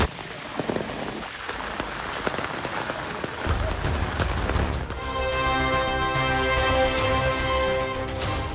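Heavy rain pours down during flooding in Kullu, Himachal Pradesh, a dense steady roar of water, with a steadier, more rushing tone in the second half as if water is streaming hard nearby.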